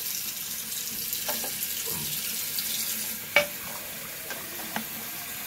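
Hot water runs from a kitchen tap fed by a Rheem RETEX-18 tankless water heater, a steady, moderate hiss of flowing water with a few sharp clinks partway through.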